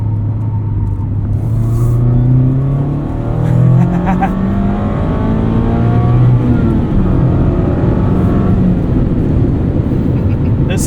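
A 2024 Mazda MX-5 Miata Club's engine drones steadily from inside the cabin while driving, its pitch rising and falling through gear changes, with people chatting over it throughout.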